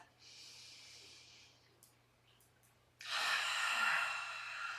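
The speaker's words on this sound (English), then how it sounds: "It's this, just belly breathe. Just fill your lungs completely" Slow, deep belly breathing during a relaxation exercise, with a long, soft airy inhale, a pause, and then a louder, rushing exhale heard close up.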